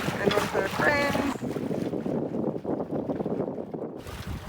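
A sailboat under way on a fine day in the Whitsundays, Australia, with steady wind buffeting and rushing water around the hull, continuous and close, while people talk on board at the start.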